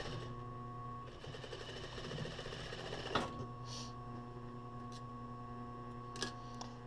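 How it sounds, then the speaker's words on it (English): A sewing machine stitches swimwear thong fabric back and forth with a steady, close motor whir, broken by a brief clatter around the midpoint and another short knock near the end. "I'm just gonna sew that back and forth."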